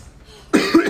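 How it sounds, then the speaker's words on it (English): A person gives a short, sharp cough, two quick loud bursts close to the microphone after a near-silent moment. "I do apologize for all my coughing."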